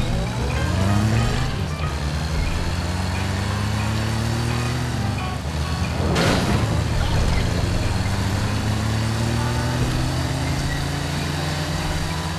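A car in The Saboteur driving along, its engine droning loudly and shifting pitch as it accelerates, with a sudden broadband burst midway and faint talk in the background.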